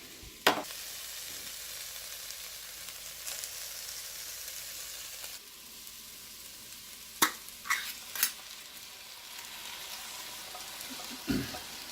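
Ground beef, peppers and onions frying in a pan for cowboy beans, a faint continuous sizzle punctuated by a few sharp knocks and scrapes of a spoon against the pan.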